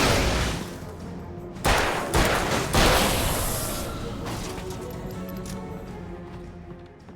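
Shotgun blasts from the video game Alan Wake come in a quick run of three booming shots, each with a rough, decaying tail over a dense, noisy backdrop.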